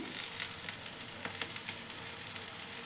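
Tikki patties for a fasting chaat cooking in oil over a low gas flame, a soft, steady sizzle with scattered small crackles, quiet and close, no voices.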